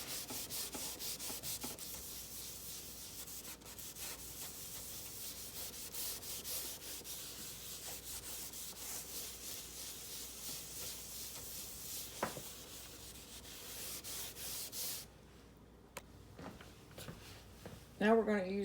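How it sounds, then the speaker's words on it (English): Steady scrubbing of an oven's glass door coated with baking soda, a continuous close rubbing rasp that runs almost unbroken before stopping near the end, with a voice talking over it. "Now we're going to scrub it."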